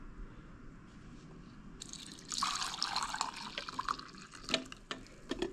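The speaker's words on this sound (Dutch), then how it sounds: "Even deze koffie, het laatste koffie, hierin schenken." The last coffee being poured into a cup, a soft liquid trickle and splash that rises after a quiet start and carries on with small drips and clinks, close and fairly faint.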